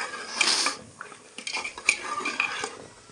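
A spoon stirs carrot halwa with sugar in a metal pot, producing close, irregular scraping and clinking strokes with short pauses between bursts, no talking.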